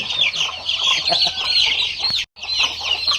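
Chickens on a farm cluck and chatter continuously up close, with many overlapping calls forming a busy, dense flock noise.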